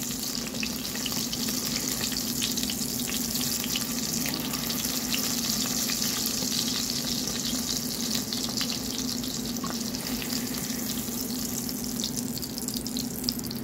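Kangkong (water spinach) is stir-fried in a hot pan, producing a dense, steady sizzle that stays loud and even from start to finish, with no talking.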